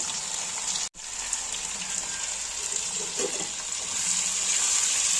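Onions and green chillies frying in oil with whole garam masala make a steady, close hiss broken by one brief cut near the start, continuing evenly without voices.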